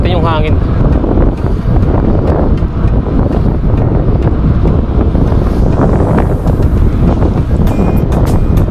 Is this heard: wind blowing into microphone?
yes